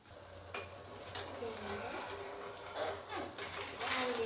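Steady sizzling of an egg omelet cooking in a covered pan, a continuous crackling hiss at moderate level with occasional faint stirring and scraping sounds.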